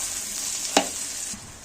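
Chickpea halwa with milk sizzles steadily in a pan as it is stirred and fried, a soft continuous hiss with one brief scrape of the spoon partway through.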